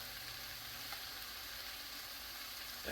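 Food in a frying pan gives a steady, faint sizzle with soft stirring scrapes, ending in a slightly louder rustle of the pan being mixed.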